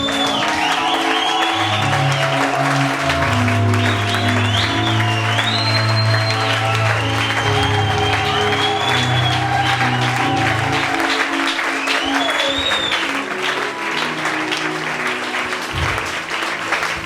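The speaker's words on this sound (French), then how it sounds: "tu te tiens debout en acclamant très fort le Seigneur" A church congregation stands and loudly acclaims the Lord, with sustained applause and cheering filling the hall alongside a steady musical backing throughout.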